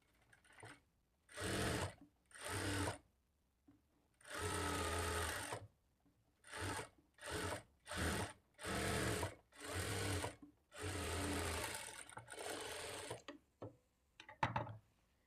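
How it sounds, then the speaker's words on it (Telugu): A sewing machine stitches the folded back seam of a blouse in repeated close bursts of whirring, about ten runs separated by short pauses, with no talking. "ఒక పావించి ఫోల్డ్ చేసుకొని స్టిచ్ చేసుకోవాలి"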